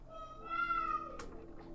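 A cat in the video game Some Distant Memory gives a single drawn-out meow that rises and then fades, fairly quiet over faint background game sound.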